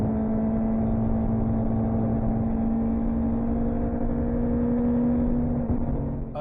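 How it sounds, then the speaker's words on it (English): Modified Suzuki Hayabusa-engined car at a track, its engine held steady at high revs against a soft rev limiter as if starved of fuel, a loud, continuous, droning buzz with a fixed pitch and no breaks. "it feels like the engine's hitting a soft rev limiter, like it's not getting sufficient fuel"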